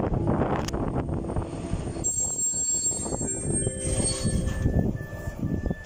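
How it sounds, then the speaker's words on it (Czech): Czech Railways express train 931 Hradečan on line R10 from Prague arrives at Nymburk main station, its wheels squealing high and shrill over a continuous heavy rolling rumble close by. "Rychlík číslo 931 Hradečan, linky R10 společnosti České dráhy ze směru Praha hlavní nádraží"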